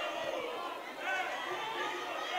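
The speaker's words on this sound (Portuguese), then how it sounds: "Enquanto isso, a torcida vai gritando, é pipoqueiro." A football crowd at a Fut7 seven-a-side final in Alagoas, CSA against Bolashow, chants the taunt "pipoqueiro" as a steady wall of massed voices, with no single voice standing out.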